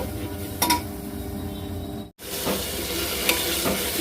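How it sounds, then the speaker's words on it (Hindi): Steady sizzling of spice paste frying in a pan, with a few stirring scrapes and a brief pause midway before the frying resumes. "अच्छे से मसाले को भूनना है, तो भून लेती हूँ मसाले को"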